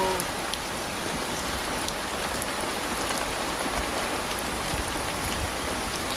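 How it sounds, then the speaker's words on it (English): Heavy rain pours steadily and evenly, a dense broadband hiss with scattered drop ticks, close and continuous with no voices. "That's the sound of the rain."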